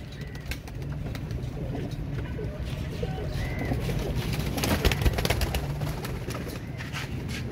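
Soft pigeon coos repeat through steady outdoor background noise, with a few brief knocks and clatters near the middle.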